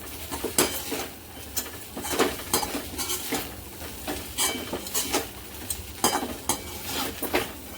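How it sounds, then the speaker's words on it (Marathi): A spoon scrapes and clatters against a pan while kande pohe (flattened rice with onion and lemon) is stirred, with repeated irregular metallic taps and scrapes over a faint low sizzle. "परत याला असं मस्त हळून घेऊया"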